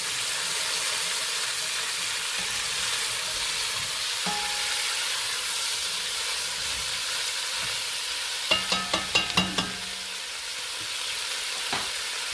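Chicken cacciatore ingredients sizzle steadily in a frying pan, a constant hiss broken by a brief cluster of quick spoon clacks against the pan as they are stirred.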